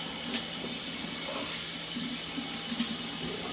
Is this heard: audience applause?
no